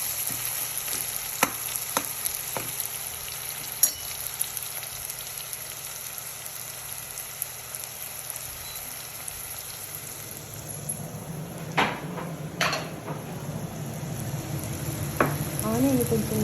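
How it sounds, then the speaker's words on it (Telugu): Onion fries toward golden in a pan for a coriander chicken curry, giving a constant close sizzle and crackle broken by a few sharp clinks and stirring scrapes, with no talking. "ఆనియన్ కొంచెం మంచిగా వేగాలి అంటే"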